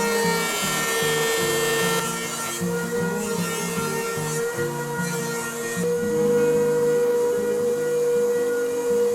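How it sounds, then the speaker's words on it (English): A wood planer runs continuously while stock is fed through to final thickness, with a steady motor whine under repeated rough cutting and rubbing passes and no speech. "And then over to the planer for final thickness."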